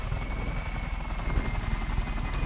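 A helicopter in the video game Just Cause 3 gives off a steady, close rotor thump with a low pulsing beat and a constant engine whine, heard alone without talk.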